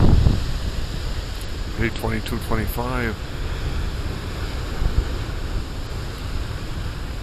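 Big ocean waves from a distant hurricane crash at Beaver Tail Lighthouse, making a steady roaring wash of surf and strong wind noise on the microphone, with a voice speaking briefly over it.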